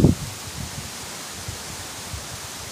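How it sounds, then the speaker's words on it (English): Wind blowing outdoors in a vegetable garden, a steady broad rushing hiss with low buffeting on the microphone, preceded by a brief thump at the start. "Ooh, the wind. I don't want it to blow."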